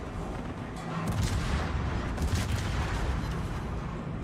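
Explosions and gunfire from a World of Warships naval battle, with a ship burning, roll as a dense continuous rumble of booming shots, growing louder after the first second and holding steady.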